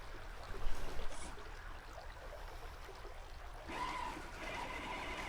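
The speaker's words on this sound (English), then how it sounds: "I'm just watching the water still dripping out of the bottom of his door" Water trickling and dribbling from the bottom of an off-road vehicle's door out on a crawler trail, a steady wet patter that thickens toward the end, with no talk.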